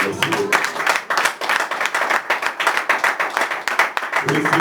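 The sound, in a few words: congregation applauding in church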